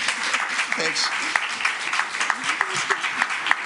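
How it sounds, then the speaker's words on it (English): Audience at an elementary school district board meeting giving a round of applause for the administration and board, steady clapping with a brief spoken word over it. "So can we give them a round of applause?"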